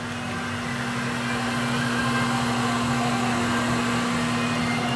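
Engine running on a dyno during a pull with AC, power steering and alternator attached, a loud steady droning hum with a firm low tone that builds slightly and holds without speech.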